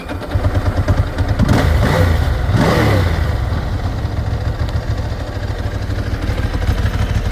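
A Ducati ST2 motorcycle engine turns over on the starter, fires and settles into a loud, close, slightly rattly idle, with a dry clutch rattle audible.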